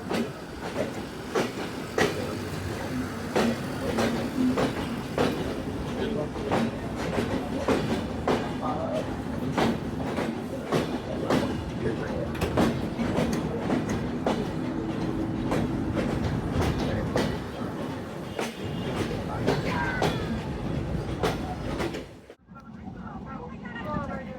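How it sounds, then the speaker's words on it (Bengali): Dhaka-bound Rupsha Bangla Express departing Jessore Junction station, a commuter train standing alongside: sustained rolling rumble with regular clickety-clack of wheels on joints for about twenty seconds, close by, then a sudden drop near the end, faint voices around. "ঢাকাগামী রূপসী Bangla express train Jessore junction rail station ছেড়ে যাওয়া রাইট টাইম হচ্ছে বিকাল চারটা পনেরো মিনিটে"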